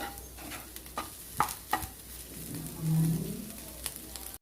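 Egg rice being stirred in a pan on the stove, with a spoon scraping and a few sharp clinks against the metal, then a soft sizzling swell as the rice is turned over, fairly quiet overall.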